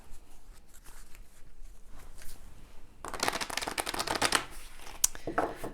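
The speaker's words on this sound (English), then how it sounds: "Let me get some emotion cards here." A deck of emotion cards shuffles nearby, soft handling and taps at first, then a dense riffling burst of flicking cards for a few seconds, with no one speaking.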